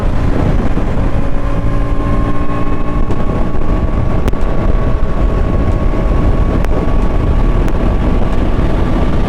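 Steady, smooth engine drone of a 2025 KTM Duke 160 cruising at speed in sixth gear, with constant wind rush and a few faint clicks, no talking.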